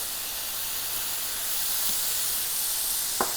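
Butter melts in a hot pan of chanterelle mushrooms with a steady, even hiss of sizzling fat and a faint tap near the end.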